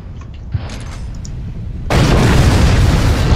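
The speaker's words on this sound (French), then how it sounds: "Je vais lancer la bombe nucléaire." A nuclear bomb explosion in a video game, a sudden loud blast that cuts in halfway and turns into a sustained, roaring wash of noise after quieter game sounds.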